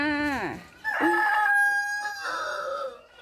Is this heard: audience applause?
no